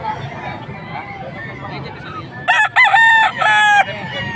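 Roosters at a busy Philippine market, with a loud close crow breaking out over crowd chatter and clucking, while people talk nearby.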